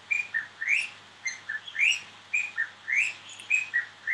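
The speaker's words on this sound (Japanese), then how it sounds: "なんか鳥が鳴いてるね" Several small birds chirp and whistle outdoors on a walk near a shrine, their bright, repeated phrases coming in quick bursts of two or three notes over a quiet background, fairly close and clear.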